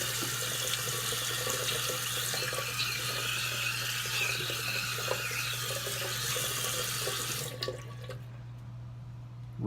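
Running tap water splashing steadily into a sink while shaving lather is rinsed off, a continuous close hiss that cuts off near the end.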